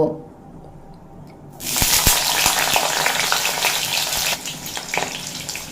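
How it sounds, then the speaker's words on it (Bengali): Bitter gourd hits hot mustard oil in a wok, and a sudden loud hissing sizzle bursts in after a quiet moment. It settles into steady frying with a few sharp spatter pops. "সবার প্রথমে আমি উচ্ছে ভেজে নেব"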